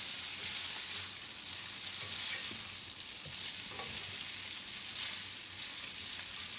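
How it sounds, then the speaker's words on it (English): Noodles with browned butter and mizithra cheese are stirred in a pan, a soft, steady sizzle with faint scraping and shuffling movements running continuously at low volume. "give it a good stir"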